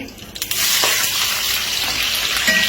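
Fish frying in hot oil, a loud, continuous sizzle that starts abruptly after a few quiet knocks and stays steady to the end.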